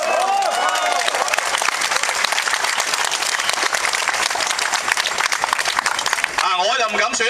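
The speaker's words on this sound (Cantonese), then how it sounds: "俾啲掌聲佢又" Loud, sustained applause from an audience at a People Power political rally in Hong Kong, with dense clapping and crowd noise filling nearly the whole stretch before it thins out near the end.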